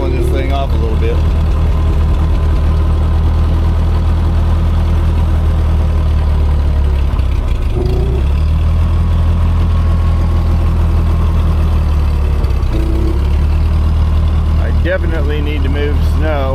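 A Ford 8N tractor engine runs loudly and steadily in a snowy setting, a low chugging idle with brief shifts in pitch, while someone talks over it.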